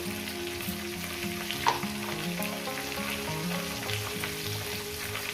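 A katla fish head fries in hot oil with salt and turmeric, a soft, continuous sizzle close by with an occasional clink of a utensil, while quiet background music plays underneath.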